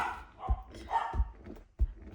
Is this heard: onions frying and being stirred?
no